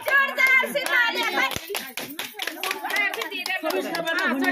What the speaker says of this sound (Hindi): मम्मी के लिए जोरदार से तालियां